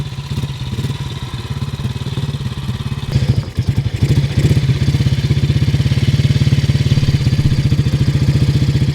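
A 1942 BSA M20 single-cylinder army motorcycle engine runs steadily close by, a loud, even low thump with mechanical clatter, briefly stumbling and revving near the middle before settling back into its rhythm.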